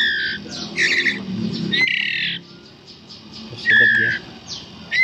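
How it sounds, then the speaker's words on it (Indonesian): White-rumped shama chicks squawk loudly in shrill bursts as they are hand-fed, close and repeated across the stretch with short pauses between calls. "Teman-teman mau ngasih makan ini trotolan murai batu."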